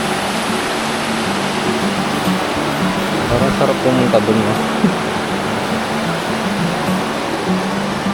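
Riverside camp by a fast-flowing river in Tarlac, with rushing water as a steady broadband wash, while a person talks briefly in the middle over it.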